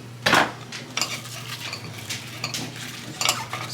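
Oiled vegetable florets seasoned with salt and pepper being tossed in a bowl, a run of clattering utensil-on-bowl knocks and scrapes in irregular bursts, close and fairly loud, no voices.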